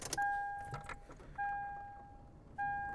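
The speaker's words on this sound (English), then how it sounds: "kind of turn the car to accessory." Keys jangle briefly as the ignition of a 2003 Lexus IS300 is turned to accessory, followed by a clear electronic chime tone that sounds three times at a steady pace, close and alone.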